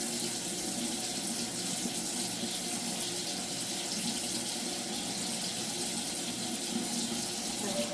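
Tap water runs steadily while dentures are rinsed, a close, continuous splashing hiss at an even level from start to finish.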